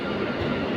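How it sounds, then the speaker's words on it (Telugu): The Lingampalli–Vijayawada Intercity Superfast Express pulls out of Secunderabad Junction, heard as a close, steady low rumble of a moving train that fills the short moment. There is no speech. "ట్రైన్ అనేది బయలుదేరింది సికింద్రాబాద్ జంక్షన్ నుంచి వెళ్ళి."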